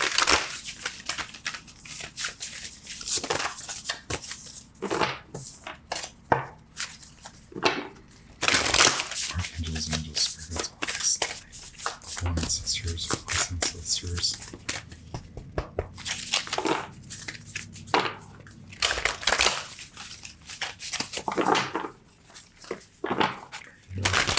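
Herbal Astrology Oracle cards shuffled by hand, a continuous close run of papery rustles, slaps and crinkling riffles lasting the whole stretch with uneven bursts.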